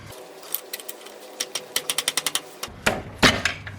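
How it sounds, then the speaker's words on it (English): Pry bar work on a 1989 Dodge Colt during an engine pull, popping the CV axle off the transmission: a quick run of close, sharp metallic knocks and taps, then a few louder clanks as the joint breaks free. "He's using a pry bar to separate the CV axle from the transmission"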